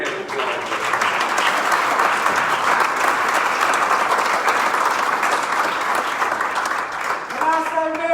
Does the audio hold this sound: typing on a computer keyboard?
no